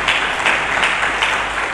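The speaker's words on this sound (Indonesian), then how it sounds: "Mari kita berikan tepuk tangan bagi Yesus." Church congregation clapping in a brief, dense burst of applause during a sermon, with a faintly pulsing rhythm throughout.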